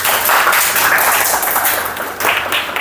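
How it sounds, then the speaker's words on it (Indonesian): Classroom applause for a student, with a group of people clapping steadily and loudly throughout, a dense patter of many hands with no talk over it. "Kasih aplaus untuk Wikri."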